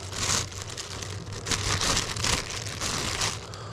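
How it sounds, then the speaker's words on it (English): A small plastic bag crinkled and handled close by, giving bursts of dry rustling and crackling that come and go in uneven waves for a few seconds, with no talk over it. "you want to keep it in a small plastic wrap like this also"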